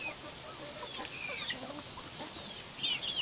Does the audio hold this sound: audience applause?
no